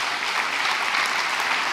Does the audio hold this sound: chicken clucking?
no